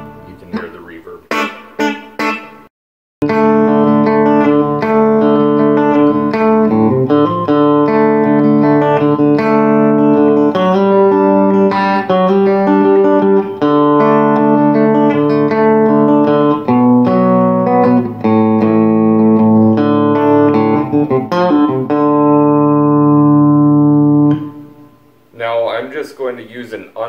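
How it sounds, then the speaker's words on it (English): A clean guitar line played through a compressor and reverb pedal on a 90s country pedalboard, sustained ringing notes with a soft reverb tail, loud and close; a brief voice comes before and after. "You can hear the reverb."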